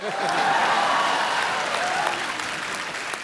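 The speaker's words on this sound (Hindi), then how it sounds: "मेरे कुर्ते के लिए जोरदार तालियां।" A studio audience at a comedy talk show claps loudly, a dense sustained burst of applause that holds steady and then eases slightly toward the end.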